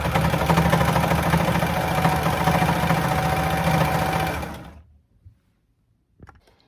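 A sewing machine stitches braid trim onto the folded edge of fabric for a placemat. A steady, loud motor hum runs for about four and a half seconds, then stops abruptly, followed by a couple of faint handling sounds.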